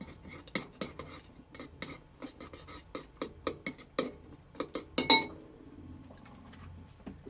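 A utensil stirring a bacon glaze with crushed crispy bacon bits, clinking repeatedly against the bowl in an uneven rhythm, close and fairly loud, with no voices.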